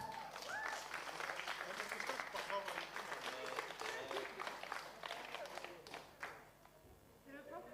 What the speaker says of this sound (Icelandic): gefum hann gott klapp